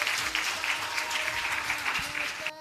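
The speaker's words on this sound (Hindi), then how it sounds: "जोरदार ताली" An audience at a Ramayana quiz competition gives loud, sustained applause for a correct answer, with dense clapping throughout and a few voices faintly audible beneath it.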